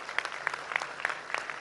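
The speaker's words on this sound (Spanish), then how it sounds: "Un aplauso para todos ustedes" Applause at a public health event in Tlaxcala, Mexico: brisk, close clapping with sharp, evenly spaced claps standing out over a softer crowd patter.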